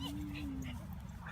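A friendly pit bull whimpers and yips in a steady, fairly close whine, with light background noise and no clear barks.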